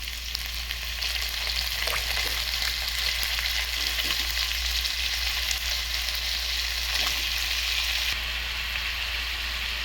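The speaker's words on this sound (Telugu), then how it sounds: "మనం ముందుగా కట్ చేసి పెట్టుకున్న వంకాయ ముక్కలను అయితే ఇందులో వేసేయాలి." Cut eggplant pieces fry in a pan for a brinjal curry, giving a steady, dense sizzle that continues unbroken throughout, with a few faint scrapes near the end.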